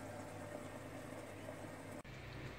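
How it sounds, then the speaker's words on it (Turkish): Chicken cutlets simmering in a pot over the lowest flame give a steady, soft crackling bubble, close and continuous, with a brief dip near the end and no voices. "Şöyle çıtır çıtır çıtır çıtır kaynıyorlar güzelce."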